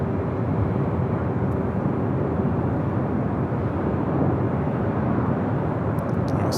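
An airliner bound for Tokyo Haneda rumbles at Los Angeles International Airport, a continuous broadband jet roar at fairly close range with a faint steady tone inside it, alone without voices.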